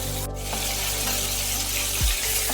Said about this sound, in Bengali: চিংড়ি মাছগুলো যেরকম ভাজা হয় হালকা করে ভেজে নিতে হবে